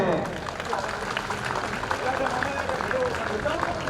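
At a district-level community award ceremony for children, a crowd claps with a thin, scattered, moderate applause under a speaking voice, continuing steadily throughout.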